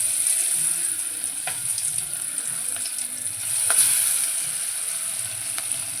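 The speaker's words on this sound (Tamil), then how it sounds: "எண்ணெய் சூடாயிடுச்சு. எண்ணெயில் போட்டுக்கலாம்." Spiced vadas frying in hot oil, a close, loud and constant sizzle with a few sharp pops and crackles scattered throughout, no voices.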